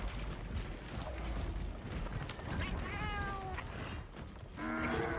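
A Palico cat companion in Monster Hunter World lets out a few short, strained meows late in the moment, heard over busy game sounds and a low rumble.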